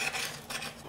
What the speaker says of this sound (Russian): Теперь давайте я ее разрежу, покажу вам, какая у нее структура получилась внутри.